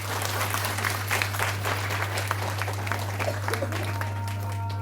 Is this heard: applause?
yes